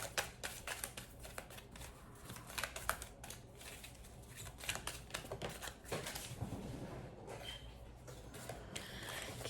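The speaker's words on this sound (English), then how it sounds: "I'll be shuffling a long time." Tarot cards shuffled at length, with continuous quiet papery riffling and clicking taps that keep a steady, busy rhythm close to the microphone throughout.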